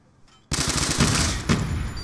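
Sustained automatic machine-gun fire from a Black Ops 2 match, bursting in loud and close after a quiet half-second and rattling on continuously with a heavier double crack near the middle.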